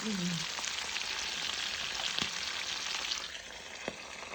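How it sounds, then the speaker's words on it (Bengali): Salted hilsa fish wrapped in leaves fries in hot oil, giving a dense, continuous close sizzle with a few small pops that eases slightly toward the end, with no voices over it. "তারপরে পাতা দিয়ে মোড়ায় মোড়ায় তেলে দিচ্ছে"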